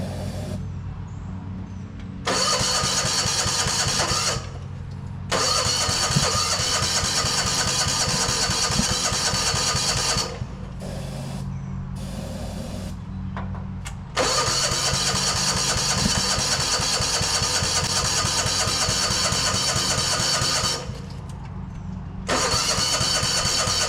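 An old Japanese mini excavator engine that sat idle for years, fed starting fluid, cranks in loud repeated bursts with short pauses, then catches and settles into a rough, steady idle. No talking.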